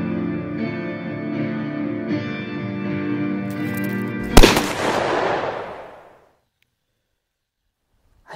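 A single sharp gunshot cracks out in a western film over a sustained droning musical chord, followed by a spreading echo that fades into silence.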